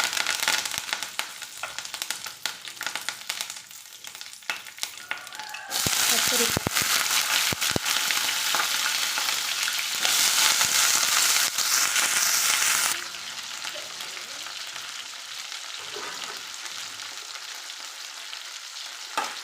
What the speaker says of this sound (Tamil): கடுகு நல்லா பொறியிட்டோம் வரமிளகாய் கருவேப்பிலை